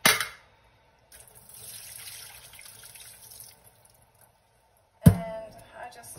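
Running tap water rinses home-grown blackberries in a sink, with a short splash at the start, a steady moderate flow through the middle and a sharper burst of water near the end.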